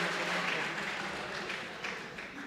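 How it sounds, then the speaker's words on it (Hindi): Audience applause at an international mushaira poetry recital in Pune, a steady wash of clapping filling the whole stretch at moderate distance, fading slightly toward the end. "एक बार तालियों से आदेश करें।"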